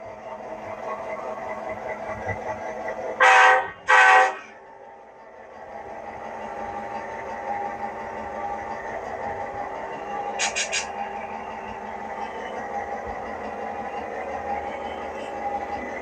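A Bachmann F7A model locomotive fitted with a sound decoder hums and rumbles steadily at close range, with two loud horn blasts near the start and a fainter short horn toot later.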